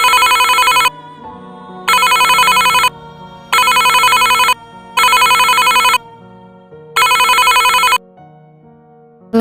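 A desk telephone rings loudly in five long electronic bursts with short pauses between them, and no voices can be heard.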